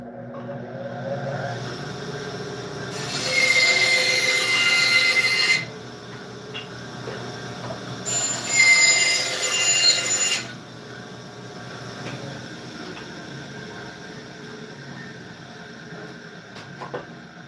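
A bandsaw cuts through wood in two separate passes, each a few seconds of harsh, hissing rasp that rises over a low motor hum and then drops back.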